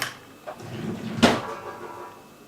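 A drawer full of loose electronic chips is opened and rummaged through: a knock and slide, then a sharp rattling clatter of small parts, close and moderately loud, with no talk.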